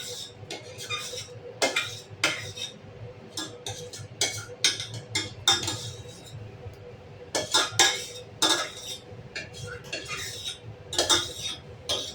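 Serving freshly cooked khichuri at home: metal utensils scrape and clink against dishes in irregular bursts, close and crisp, with quiet pauses between clatters and no talking.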